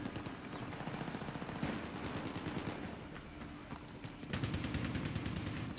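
Rapid automatic gunfire in the video game Battlefield 3, dense bursts of shots repeating almost without pause and swelling louder near the end, sounding close and continuous.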